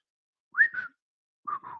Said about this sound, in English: I'm not whistling very well, but I guess you are getting the Monty Python aspect that I was hinting at.